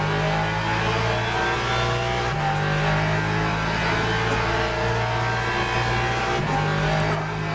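Ferrari and Porsche race cars in the Le Mans Ultimate sim racing game, loud steady engine drone with shifting pitch as revs rise and fall, alone without talk.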